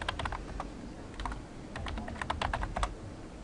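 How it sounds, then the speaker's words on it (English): Quick bursts of key clacks from a computer keyboard, typed in short uneven runs over a low steady room hum, fairly close and moderately quiet. "I can't type it right."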